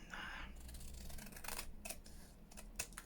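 Scissors snip through paper while junk journal tags are made, a few crisp close cuts and rustles over a quiet room with a faint voice in the background.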